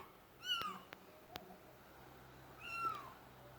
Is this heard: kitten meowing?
yes